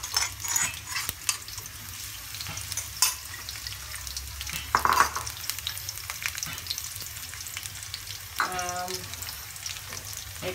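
A cup of onion with chopped garlic frying in hot oil, a dense continuous sizzle with spoon scrapes and light metallic clinks against the pan, close and fairly loud.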